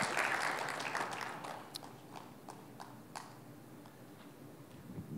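Applause from a church congregation, loud dense clapping at first that thins into scattered individual claps and fades away.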